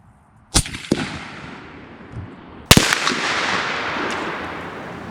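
.50 BMG rifle fired at a car engine block outdoors: a sharp, loud blast with a quick secondary crack, then a second heavy report followed by a lingering roar and rumble of echo.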